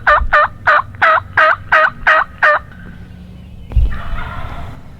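A wild turkey tom gobbles in a rapid run of about eight loud, close calls while hunting in Kansas, followed by a pause and a burst of rustling noise.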